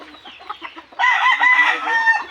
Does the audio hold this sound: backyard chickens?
yes